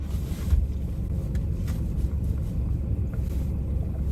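Cabin of a moving car, with steady low road rumble and engine hum filling the interior and a few faint bumps, with no voices over the noise.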